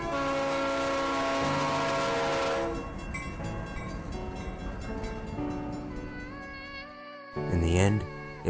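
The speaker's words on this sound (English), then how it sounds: "45 minutes later, we heard the train." A train rumbles past with a sustained horn blast over steady rolling noise, the sound fading toward the end before a brief burst of other noise.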